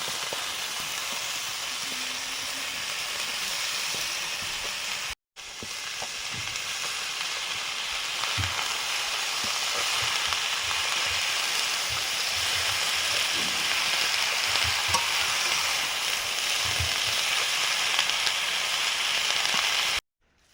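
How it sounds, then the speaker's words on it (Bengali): Malabar spinach seeds are added to a frying pan that sizzles steadily throughout, a continuous close hiss broken by a brief dropout and scattered small spatters and stirring knocks. "এবারে দিচ্ছি পুঁই বিচড়ি"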